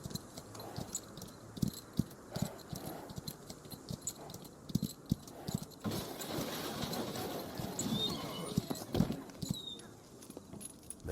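Repeated sharp hoof clops ring out in an irregular walking rhythm, close by, over a constant insect-like chirring background.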